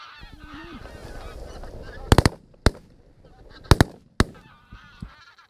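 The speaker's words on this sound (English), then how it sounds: "more geese can be heard in the distance." Geese honking during Orkney wildfowling: a few faint, distant honks near the start, followed by several sharp, loud gunshot-like cracks in two close bursts, with a voice briefly audible.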